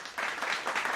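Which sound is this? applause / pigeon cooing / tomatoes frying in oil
applause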